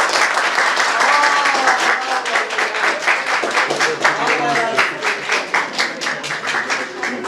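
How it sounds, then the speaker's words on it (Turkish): A group applauds to congratulate a municipal cleaning worker, brisk clapping that starts full and gradually thins into a looser rhythmic patter, with voices talking over it. "Evet, tebrik için bir alkışlarım."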